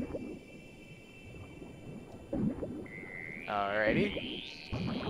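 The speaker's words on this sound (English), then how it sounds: "I hear a shark." Deep whale-like calls from a shark or sea creature in the underwater survival game FarSky, a rising, wavering cry swelling near the end over murky water ambience, with someone briefly talking.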